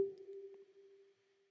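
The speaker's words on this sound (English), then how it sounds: "It just sounds like a sonar sound." A sonar-like synth hit built from Serum's FX Submarine preset, in a house track remake: one sharp ping that rings out as a steady pure tone with faint echoing blips, fading over about a second and a half.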